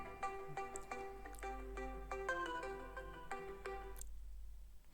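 A mobile phone ringtone plays a repeating melodic tune of bright tones for about four seconds, loud and close, then cuts off, with low hum underneath during a lecture.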